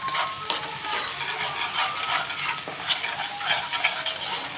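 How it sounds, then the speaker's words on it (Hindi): Onions sautéing in about a cup of oil for a dhaba-style mash dal, giving a steady, dense sizzle with occasional soft stirring scrapes, close and continuous with no talking. "देखिए मैंने 1 कप ऑयल ले लिया, उसमें मैंने डाल दिया है प्याज जो मैंने हल्का सा सौते करना है बस।"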